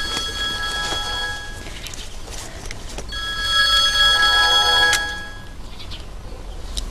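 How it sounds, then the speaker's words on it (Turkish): A telephone bell rings in repeated bursts, loud and close, with no talk over it. "bu telefonlar hiç çalmasa ne güzel olur değil mi?"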